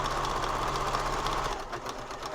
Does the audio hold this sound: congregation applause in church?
no